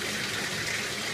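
Water is poured over a dog to rinse soap from its fur, a steady, fairly quiet gushing splash with no break and no voices.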